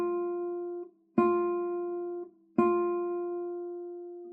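Guitar notes plucked with the left side of the fingernail, three separate plucks spaced about 1.4 seconds apart, each ringing close and clean before a short gap, with no voices.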